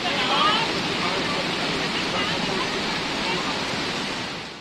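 A monsoon-swollen river in flood rushes loudly and continuously in Gujarat, a dense, steady roar of churning water that stays at the same level throughout and eases slightly at the end.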